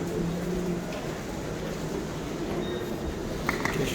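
Steady low rumble and hum inside a metro train at New Delhi railway station, continuous rail noise with faint higher whines and a brief clack near the end, no talk.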